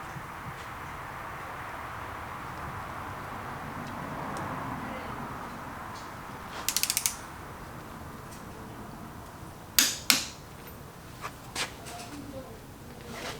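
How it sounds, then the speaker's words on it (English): A torque wrench tightening the cam bolt on a Ford FE 390 engine, with a short run of ratchet clicks and then a few sharp, close clicks and knocks over a steady background hum. "I'm getting ready to torque the cam bolt, and specs call for 40 to 42."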